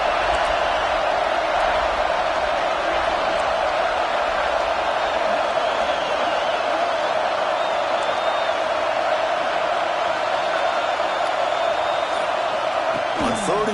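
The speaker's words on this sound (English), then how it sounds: "This crowd is trying to inspire this defense to make a big red zone stop." Stadium crowd roaring at a Nebraska vs Notre Dame college football game, a loud continuous wash of noise throughout, beneath a commentator talking.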